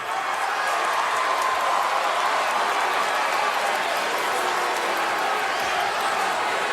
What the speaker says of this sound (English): Those of you who are cheering me right now